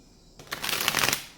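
Tarot cards shuffled by hand: a quiet pause, then a dense burst of crisp, rapid riffling and flapping that builds and fades over about a second, close and alone.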